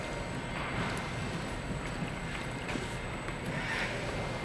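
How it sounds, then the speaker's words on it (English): A steady, bubbling gurgle of DEF (AdBlue) fluid draining from a bottle into a vehicle, continuous and close-up, with a rushing, noisy texture throughout. "I don't know if you can hear that gurgling."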